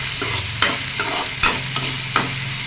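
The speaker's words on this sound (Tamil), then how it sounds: "சின்ன வெங்காயம் சேர்த்துக்கோங்க. ரொம்ப டேஸ்ட்டாக இருக்கும். நல்லா வதக்கிக்கோங்க." Small onions sauté in a hot pan for drumstick-leaf sambar, a steady close sizzle broken by a few sharp scraping stirs of the spoon.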